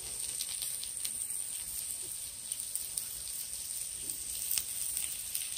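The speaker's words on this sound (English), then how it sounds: "starting to sizzle" Soft, steady sizzling crackle of food cooking on a copper grill mat on an Ogrill, with scattered faint pops and ticks, continuous and fairly quiet throughout.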